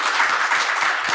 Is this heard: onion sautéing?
no